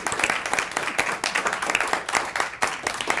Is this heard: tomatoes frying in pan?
no